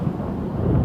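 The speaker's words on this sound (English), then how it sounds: "But a sudden bolt of lightning fries Buggy crispy enough for Luffy to escape. The crazy thing is that the thunder actually came from Luffy's dad, Monkey D. Dragon," Thunder from a lightning bolt in the One Piece anime, a loud, continuous low rumble that rolls on without a break for the whole short stretch.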